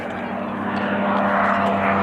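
Supermarine Spitfire Mk Vc warbird at an airshow, a steady loud propeller engine drone holding a constant tone throughout, with faint crowd or commentary noise underneath.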